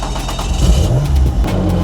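Loud, close historic race car engine revving and accelerating at the Magny-Cours circuit, a rough throaty roar rising and surging over a couple of seconds.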